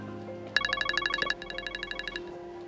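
A mobile phone ringtone for an incoming call plays a quick, bright repeating electronic melody in two bursts, moderately near, with no talking over it.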